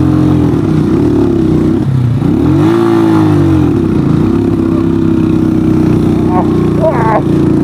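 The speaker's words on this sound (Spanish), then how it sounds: "le aceleré a fondo para desbocar un poco la moto" Motorcycle engine revving hard and steadily, loud and close, as the bike accelerates at full throttle on loose sand on a ride up Pico de Orizaba, with a brief dip and rise in pitch midway.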